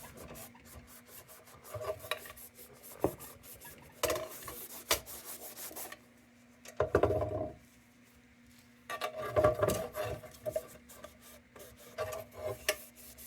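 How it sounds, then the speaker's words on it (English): A rag soaked in vinegar rubs against a brass Dietz LW U.S. tubular lantern, giving rasping, scrubbing strokes in bursts with short pauses between them, close up and moderately loud with no talking. "Let me try applying vinegar with a rag."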